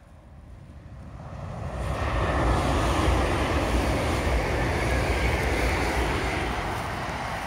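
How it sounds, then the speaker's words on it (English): A train passes along a railway line, its rumble swelling from a distance to a loud, steady roar before easing slightly as it continues by. "here's a train"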